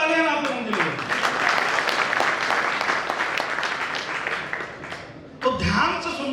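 An audience applauds loudly at a seminar, with dense, sustained clapping that fades slightly before a fresh burst near the end, and a voice speaks at the start and end.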